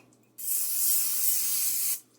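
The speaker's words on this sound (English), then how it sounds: "spray down your pizza tray before you put your pizza on top of the tray" A single steady hiss of aerosol cooking spray onto a pizza tray for about a second and a half, close and clear, starting and stopping abruptly in an otherwise quiet room.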